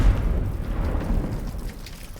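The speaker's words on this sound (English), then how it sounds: "it takes 2 seconds for it to finally explode" An explosion in the video game Teardown, a deep rumbling boom that hits at once and slowly fades over about two seconds, with no talking.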